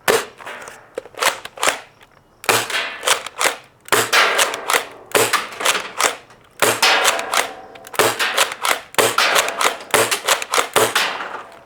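A Nerf GelFire Quadrant blaster firing gel shots in rapid bursts of sharp, snappy pops, loud and close, with repeated volleys separated by brief pauses and no talk.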